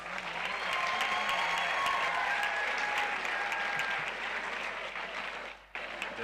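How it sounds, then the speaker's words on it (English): An audience at a national sports competition event in Nagpur claps in loud, sustained applause to welcome guests, a dense wash of clapping that fades near the end. "Can we have a huge round of applause to welcome our guests?"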